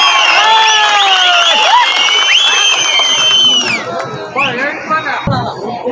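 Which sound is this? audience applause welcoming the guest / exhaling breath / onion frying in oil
audience applause welcoming the guest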